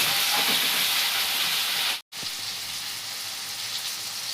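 Onion and medium-sized tomato frying together in a pan for chicken lazawab, making a dense, loud, steady sizzling hiss that briefly cuts out midway and then resumes.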